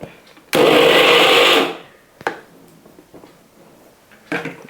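A mixer grinder crushes chillies in a single loud, close whirring pulse of about a second, followed by light knocks and clatter from the jar.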